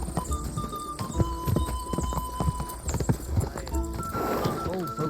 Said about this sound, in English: I need a horse like this, man.